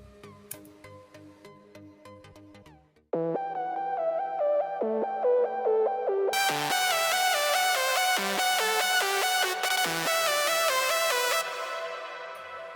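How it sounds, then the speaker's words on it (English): A bright synth lead layer from a remake of a track plays a melodic electronic line. It opens thin and plucky, then swells into a loud, sustained, buzzy lead with repeated rhythmic notes, heard alone. "this is the first layer that I have used for the leads"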